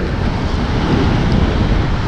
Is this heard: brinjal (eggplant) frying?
no